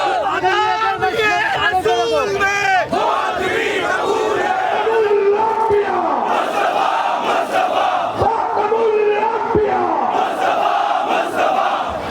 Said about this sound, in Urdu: اس موقع پر مظاہرین نے فرانس کے خلاف زبردست نعرے لگائے۔